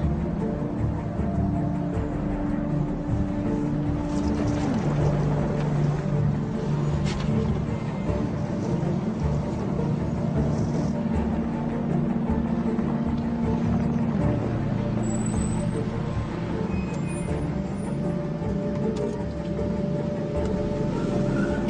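A boat engine runs steadily throughout, a constant low drone with a sustained hum and no pauses, loud and close, with no speech over it.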